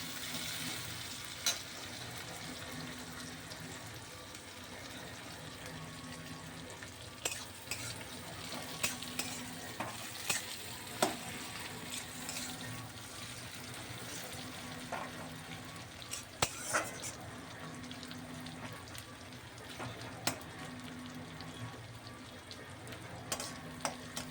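Onions fry quietly in a pan for a Bengali vegetarian dish, a soft continuous sizzle broken by scattered clinks and scrapes of a utensil stirring against the pan.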